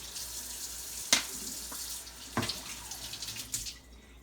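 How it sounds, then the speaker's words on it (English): A kitchen tap runs in a steady soft stream while hands are rinsed after handling raw pork, with a few light splashes and clinks over the flow. "I'm just going to wash my hands really quickly because it's full of pork now."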